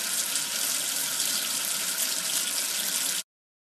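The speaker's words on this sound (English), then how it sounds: "Wash away the soap with water." Steady running water from a tap in a children's baby game, rinsing soap off a number figure, a continuous loud hiss that stops abruptly near the end.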